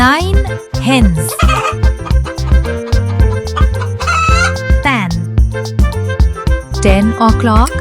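Hens cluck and a rooster crows over a bouncy, rhythmic musical backing, the bird calls loud and repeated throughout.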